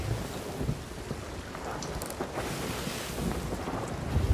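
Stormy weather at sea in a pirate video game: steady rain and wind roar with a low thunder rumble, continuous and fairly loud throughout, no voices.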